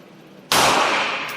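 A single sharp, loud pistol shot from a steel-framed CZ 75 P-01 fired at a target about six to seven metres away, cracking after brief quiet and decaying into a ringing tail.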